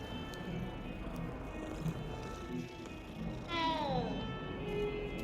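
Cats meowing in the video game Hogwarts Legacy, with a few soft mews and then a clearer, drawn-out meow late in the clip over quiet game ambience.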